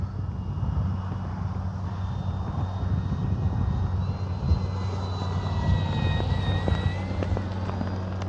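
An E-flite Carbon Z T-28 Trojan electric RC plane whines steadily overhead at moderate distance, its motor pitch slowly rising and shifting, over a low outdoor hum.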